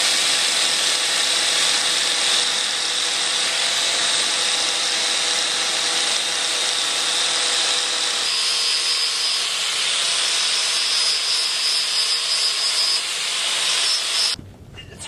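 A Rexcut flap disc on a power tool grinds and sands a blade, a loud continuous high whirring rasp with shifting pitch that cuts off abruptly near the end, no voices.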